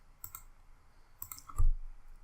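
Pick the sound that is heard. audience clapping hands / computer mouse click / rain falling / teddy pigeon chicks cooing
computer mouse click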